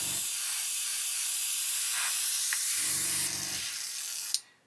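An airbrush sprays paint onto the floor of an Airfix 1/48 Sea King helicopter model, a steady close airy hiss that runs for several seconds, then cuts off with a small click.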